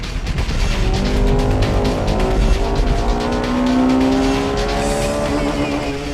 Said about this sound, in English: Here comes the Integra R.